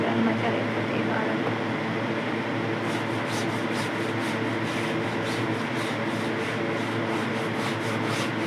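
Clothes being scrubbed and washed by hand, a steady close rubbing and scraping that continues throughout with a faint rhythmic brushing texture.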